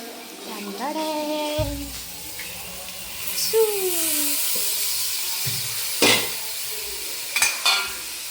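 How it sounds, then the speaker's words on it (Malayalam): Tomatoes frying in a pan are stirred with a steady scraping and sizzling that runs throughout, close and moderately loud, while a voice talks over it and a few utensil clicks land near the end. "നമ്മൾ ഇതിങ്ങനെ ഇളക്കി കൊടുക്കണം"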